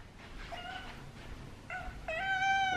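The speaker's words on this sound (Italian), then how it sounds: "Piccolo gattino, tutto bianco!" Small white kitten meowing close by: a few faint, thin mews early on, then two clearer, louder meows at the end over a quiet background.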